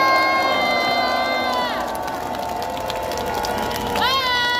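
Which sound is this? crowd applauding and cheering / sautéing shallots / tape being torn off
crowd applauding and cheering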